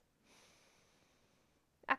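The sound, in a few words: person inhaling deeply through the nose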